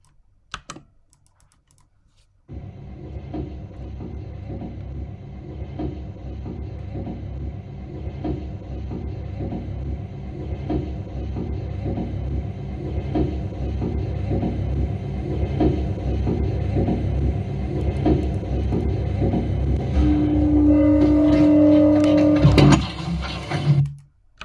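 A Kone-modernised 1973 Spanish swing-door lift in a Roblox apartment building runs with a steady low mechanical hum and rumble over many seconds, faint ticking on top, then a brief tone and clatter as it stops.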